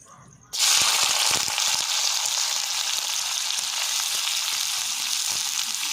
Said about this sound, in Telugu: దొండకాయ అయితే యాడ్ చేశానండి ఒకసారి అయితే ఇవి కొంచెం ఫ్రై అయిన తర్వాత